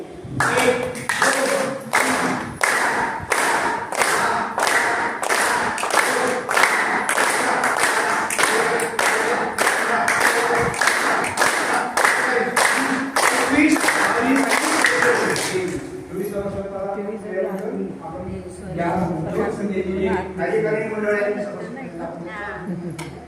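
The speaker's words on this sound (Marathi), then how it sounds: "मी टाळ्या बसतो त्याप्रमाणे प्रत्येकाने टाळी वाजवली पाहिजे." An audience at an anniversary celebration laughter-yoga session claps in unison, sharp rhythmic beats repeating steadily for about fifteen seconds before giving way to a voice speaking alone.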